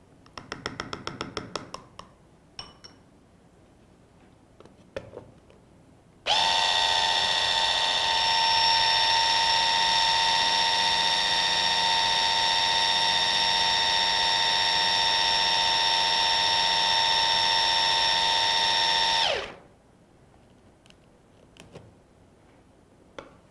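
An electric mixer runs steadily for about thirteen seconds, blending a creamy low-carb blueberry cheesecake filling, a loud even whine that starts and stops abruptly with quiet room sound on either side.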